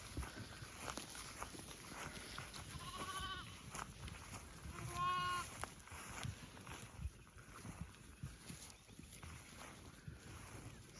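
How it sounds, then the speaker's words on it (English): Lambs bleat on a farm on a frosty-free morning, two distinct calls a couple of seconds apart over steady outdoor background noise, moderately close. "Look at all these lambs down here."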